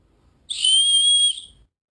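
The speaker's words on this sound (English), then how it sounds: "And a whistle." A single shrill blast from a survival whistle on a watch band, lasting under a second, piercing and clear, then silence.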